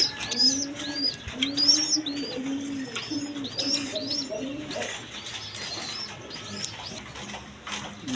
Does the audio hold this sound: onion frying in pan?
no